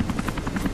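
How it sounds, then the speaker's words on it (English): A helicopter approaches in Rise of the Tomb Raider, its rotor thumping in a fast, steady beat, loud and close over a short moment. "Why is there a helicopter coming?"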